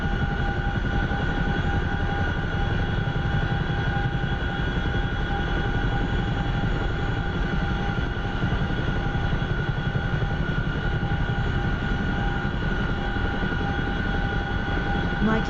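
Steady drone of a Chinook helicopter's engines and rotors from the DCS flight simulator, a constant loud unbroken rumble with no talking over it.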